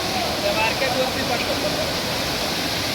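Steady, dense rushing water roars continuously like a nearby waterfall in the Konkan, with faint voices mixed into the constant noise.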